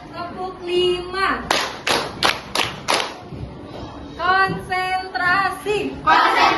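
A group of pupils in a classroom concentration exercise claps in unison on a count, five sharp, evenly spaced claps in a row, with a leader's voice talking before and after the claps.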